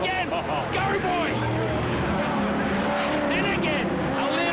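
V8 Ute race cars, including a Holden Commodore, slide sideways on the Townsville circuit, engines roaring with bursts of tyre squeal, all under continuous excited commentary.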